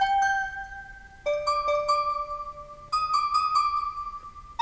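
Randomized MIDI chord notes play on the Virtual Power VST synth: sustained, bell-like synth chords change every second or so, clear and steady with no voices.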